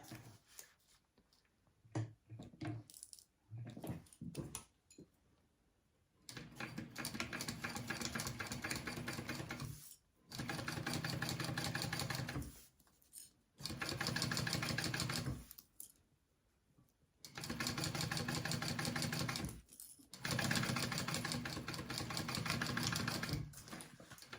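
A sewing machine top stitches a wallet in several steady bursts of rapid mechanical whirring, each lasting a few seconds, separated by pauses and softer handling noises.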